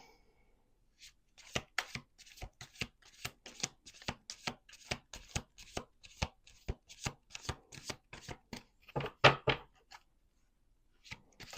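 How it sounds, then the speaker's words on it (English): A deck of playing cards is shuffled repeatedly on a table in close, crisp bursts of riffling and snapping, starting after a quiet moment and ending in silence, with no talking. "Two more shuffles."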